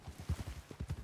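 Horse hooves in Red Dead Redemption 2, a brief run of soft, evenly spaced clip-clop steps at walking pace, close and fairly quiet.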